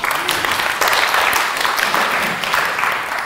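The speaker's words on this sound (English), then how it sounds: "Let's give them a round of applause, please." An audience at a church gathering claps loudly in a lively, dense round of applause with slight swells, filling the room for several seconds.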